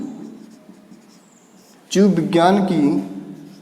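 Writing on the board during a biology class makes soft, scratchy strokes for about two seconds, then a teacher starts speaking over it.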